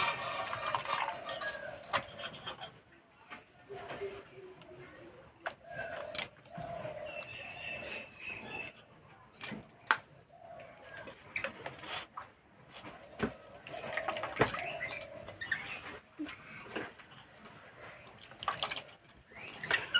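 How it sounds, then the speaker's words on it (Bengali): Grated potato is rinsed and squeezed by hand in a bowl of water, giving irregular soft splashes, sloshes and squelchy rustles at close range, rising and falling in bursts. "এবার 3 থেকে 4 বার জল পাল্টে পরিষ্কার করে ধুয়ে নেব।"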